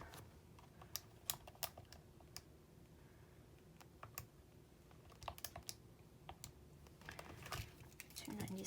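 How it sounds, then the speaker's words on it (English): Computer keyboard typing while entering figures for a statistics confidence-interval calculation, quiet scattered key clicks and short bursts of keystrokes over a low steady background hum, with no talking. "we type everything in"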